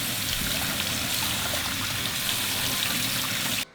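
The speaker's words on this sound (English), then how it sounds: "once we have all of our vegetables, we're going to rinse them" Vegetables, including peeled corn, rinsed under running tap water for a Mexican shrimp soup, giving a steady, close, continuous splash and trickle that cuts off abruptly at the end.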